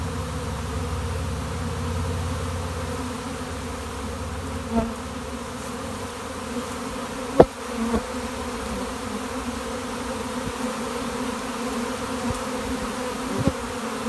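A honey bee swarm, some bees carrying pollen on their legs, drones in a steady, dense buzz throughout, with a few soft bumps and knocks over the continuous hum.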